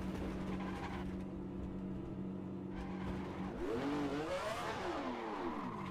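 A 1967 Ferrari 312F1 racing engine in a driving game drones steadily, then rises and falls in quick revving blips as it downshifts, loud and close.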